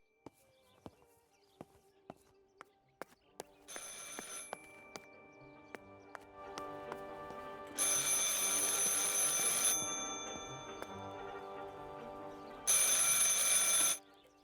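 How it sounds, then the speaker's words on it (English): An old-style telephone bell rings in bursts in a World War era Italian house in Martha Is Dead, with sharp clicks and knocks first, then loud sustained metallic rings separated by pauses. "I should pick up the phone but remain silent"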